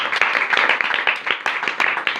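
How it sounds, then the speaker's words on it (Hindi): A congregation claps at a church sermon, a brisk, dense burst of many hands sounding close and steady for a couple of seconds. "अपने लिए एक बार जोरदार ताली बजाइए।"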